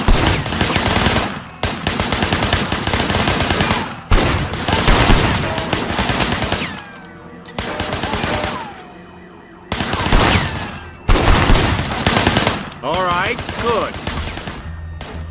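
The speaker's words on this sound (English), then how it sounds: "I want you to put some bullets in a few things." Rapid, loud gunfire from the video game Sleeping Dogs, sustained bursts that repeatedly stop and restart over mixed game noise, with a possible voice in the mix.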